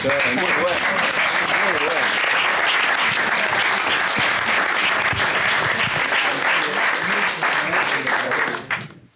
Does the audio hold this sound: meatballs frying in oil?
no